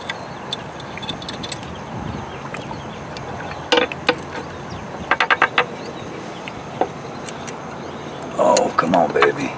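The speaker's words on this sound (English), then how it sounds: "I'm gonna try this with the screwdriver, holding this damn thing down." A screwdriver works on the linkage of a Johnson outboard motor, giving scattered metallic clicks and a quick run of ratcheting ticks over a low background hiss, ending in a brief rattling scrape.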